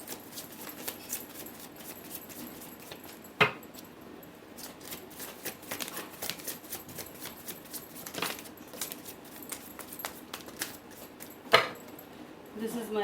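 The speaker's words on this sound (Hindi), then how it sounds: "This is my last shuffle." Tarot cards being shuffled in soft, rapid riffles and flutters with a couple of sharper snaps, close and quiet, with faint voice now and then.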